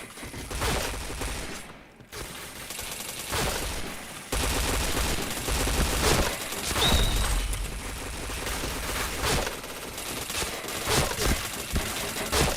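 Rapid gunfire in a shooter video game: loud bursts of automatic fire and single shots follow one another in quick succession, broken by brief pauses and a few heavier booms, with no talking.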